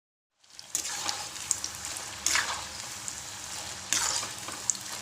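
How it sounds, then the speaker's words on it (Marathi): Chickpeas for chana koliwada fry in hot oil with a soft, steady sizzle, swelling in short bursts of crackle and spatter, heard close and moderately quiet. "हे बघा, आता छान फ्राय झाले, काढून घेऊया."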